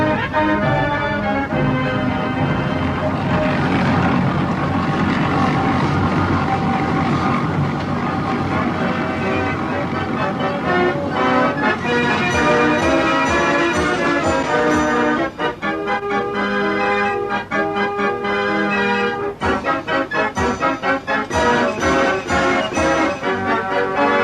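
A steam-engine-driven organ, its air supplied by a pump run off a steam-powered generator, plays a continuous tune with sustained pipe chords and a steady rhythmic accompaniment, loud and close throughout.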